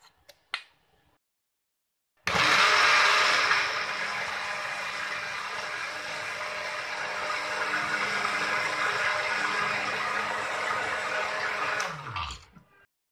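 A mixer grinder whirs loudly and continuously for about ten seconds as it grinds mustard paste with taro leaves, starting abruptly after a brief click and winding down at the end.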